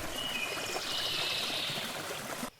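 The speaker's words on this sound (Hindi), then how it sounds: "वो देखो, सामने एक झरना है, चलो पानी पी लो।" A forest waterfall with flowing water, a steady close rushing and trickling wash that cuts off abruptly at the end.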